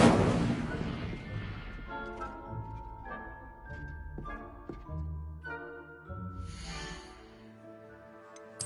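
The Incendio fire spell from Hogwarts Legacy is cast with a loud whooshing burst at the start, followed by fading crackle and ringing magical tones that settle into a softer shimmer.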